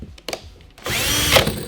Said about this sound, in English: run the drill in reverse